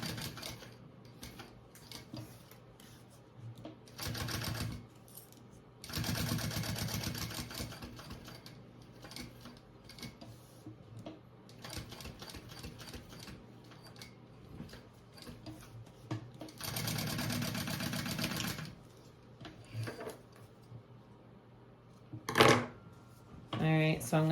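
A sewing machine top-stitches a waist bag in several runs of a few seconds each, a close, rapid mechanical chatter, with quieter handling between runs and a voice talking at times.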